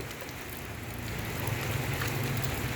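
Steady rain falls in Phalanxay, Laos, a dense, even hiss of drops that grows slightly heavier and fuller partway through, with no voices over it.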